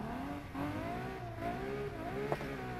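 A car engine revs steadily in the racing game Need For Speed Heat, a continuous droning whine that rises and falls in pitch with the throttle and is heard close up without any talk.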